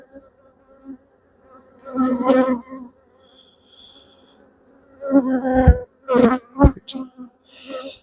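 Honeybees buzzing around an opened hive with brood-packed frames, a faint hum under intermittent handling noises, knocks and rustles from working the boxes.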